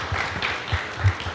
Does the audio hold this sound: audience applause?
yes